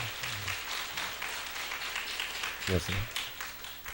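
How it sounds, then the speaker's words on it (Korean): A church congregation applauds in a steady wash of clapping, with a voice speaking briefly over it. "큰 박수 한번 해주시기를 바랍니다."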